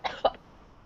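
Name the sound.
heavy cough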